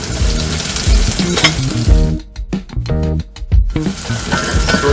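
Onion and garlic sautéing on low heat in a pan, a steady close sizzle with stirring scrapes and clatter and a brief quieter moment midway.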